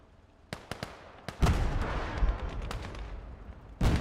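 Gunfire in the WWII strategy game Gates of Hell: Ostfront, Finland campaign: a few sharp isolated shots, then a heavy booming burst with rumbling battle noise and another loud report near the end, with no talking.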